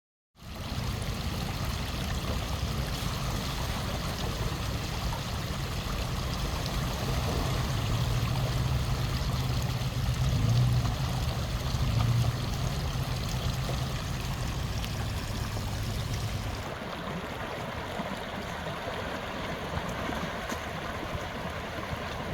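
Steady rushing and churning water as a vehicle fords the broad river crossing at Cajon Creek, continuous and close, with the tone shifting slightly near the end.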